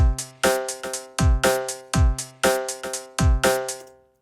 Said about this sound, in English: features 5 different resonators that will superimpose a pitch into whatever type of audio you give it